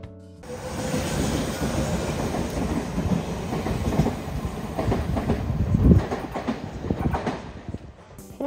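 A train rolls past close by, steady rumble with clickety-clack of wheels over rail joints, building slightly before fading near the end.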